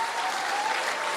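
Church congregation clapping together in praise, a dense, steady wash of applause from many hands with no pauses.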